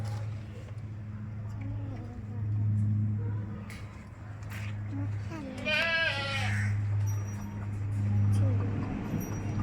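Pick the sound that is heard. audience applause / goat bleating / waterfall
goat bleating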